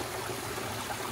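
A small waterfall with algae-covered rocks feeds a flowing stream at an off-grid micro hydro site, producing a steady, close, broadband rush and trickle of water with no voices.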